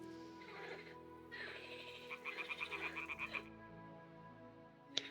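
Toads croak in Kingdom Come: Deliverance 2, a rapid, pulsing run of croaks over a steady ambient bed, followed by one sharp click near the end, faint, with no talking.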